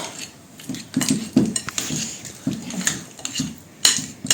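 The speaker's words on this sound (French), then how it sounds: "on travaille un petit peu avec la cuillère" A spoon working softened butter in a bowl for a chocolate butter log, giving uneven clinks and dull scraping knocks against the bowl, close and fairly loud, with no voice.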